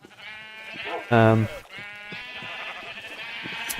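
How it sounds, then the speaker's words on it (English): A Minecraft sheep gives one loud, clear bleat in the middle, standing out above a voice talking and a steady musical game background. "just sit here and shear sheep all the time"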